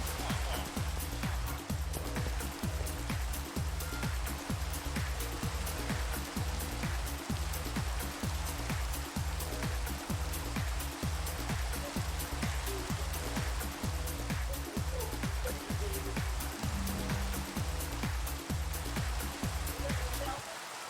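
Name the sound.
rain falling in a video game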